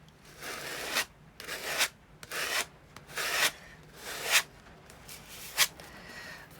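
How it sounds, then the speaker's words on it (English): Silvery paint being scraped across a surface in about six separate rasping strokes at roughly one per second, close and fairly soft, with quiet pauses between strokes. "Now I'm going to come in and scrape it across here like this"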